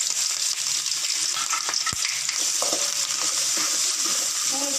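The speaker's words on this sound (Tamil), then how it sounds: "இப்போ நறுக்கி வச்சுருக்க இஞ்சி பூண்டை சேர்த்து வதக்கிடலாம்" Chopped ginger and garlic sizzle steadily in hot oil in a pan for homemade chicken fried rice, a loud continuous frying hiss with a few stirring clinks and scrapes, no talking.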